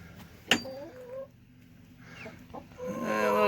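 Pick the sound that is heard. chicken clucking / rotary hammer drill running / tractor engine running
chicken clucking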